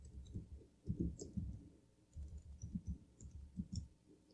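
Fingers type on a computer keyboard, giving irregular bursts of soft, close clicks in uneven runs with brief pauses, with no voice over them.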